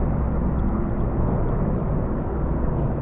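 Royal Navy Merlin helicopters in a Platinum Jubilee flypast, a loud continuous engine and rotor roar sweeping overhead, with no voices.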